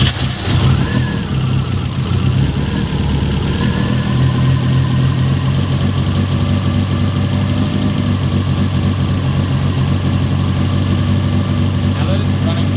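A 2005 Subaru STI with a previously leaking oil pump runs steadily at close range, a loud, continuous low engine drone with an even idle throughout.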